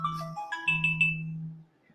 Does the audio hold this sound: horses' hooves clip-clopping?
no